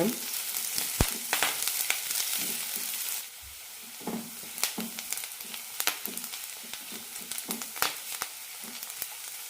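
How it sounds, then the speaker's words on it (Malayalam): Sliced onions and curry leaves frying in hot oil in a pan for an okra tamarind curry, a steady crackling sizzle with sharp pops and spoon stirring, close and fairly loud. "കുറച്ച് കറിവേപ്പില കൂടി ഇടാം സവാള ലൈറ്റായിട്ട് ഗോൾഡൻ ആകുന്നത് വരെ"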